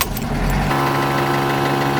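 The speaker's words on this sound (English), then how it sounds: "Thank goodness for the spiffy air pump I installed in the engine bay of the van." Air pump mounted in a van's engine bay, inflating the rear tyres toward 40 psi, a loud, steady, close mechanical drone that shifts pitch partway through and keeps humming with no talk.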